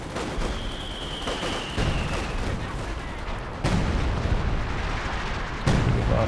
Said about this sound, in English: Artillery from the major, it sounds like.